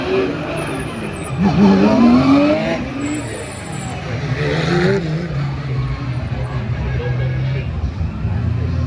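BTCC touring race cars of up to 510 brake horsepower roar past at Snetterton, a loud engine sweep rising and falling with tyre noise as further cars follow.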